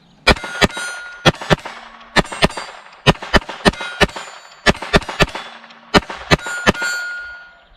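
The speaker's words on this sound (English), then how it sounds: "I'm going to start in the center and then go side to side and shoot all around until the magazine's out." A Keltec P17 .22LR pistol firing a full magazine, sharp loud cracks in irregular pairs and clusters with ringing metallic decay and brief pauses between strings of shots.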